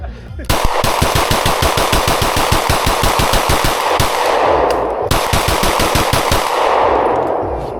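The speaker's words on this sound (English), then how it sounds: "final mag dump. 29 rounds here." A firearm empties a 29-round magazine in very rapid, loud, evenly spaced shots, with a brief pause partway through before the string of fire resumes and ends.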